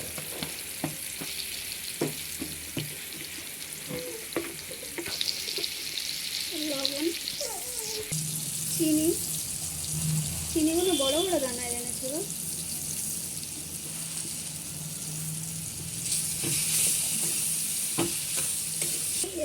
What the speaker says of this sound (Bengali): আমগুলো দিয়ে দেবো আমগুলো ভেজে নেব